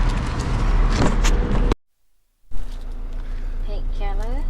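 Someone climbs into a truck in Thailand: a door thuds shut and cuts the sound to near silence, then the engine starts with a steady low hum. Speech is heard before the door closes and faint tones follow.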